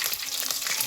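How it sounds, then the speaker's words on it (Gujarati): Tempering crackles and sizzles in hot oil for a kantola (spiny gourd) curry, a brief, dense, close sizzle with no voices. "ભાઈ આ નાખી દઈશું વઘાર અત્યારે."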